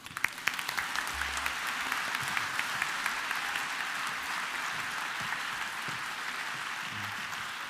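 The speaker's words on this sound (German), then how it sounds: "Für die 4 Freiwilligen mal einen Applaus bitte." A theatre audience at a Christmas musical claps for four volunteers, a sustained wash of applause with a few sharper individual claps near the start and occasional faint voice murmurs underneath.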